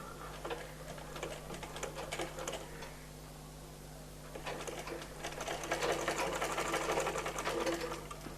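A sewing machine runs steadily while stitching the shoulder seam of a baby frock, its fast mechanical whir continuing alone throughout, growing a little louder in the second half.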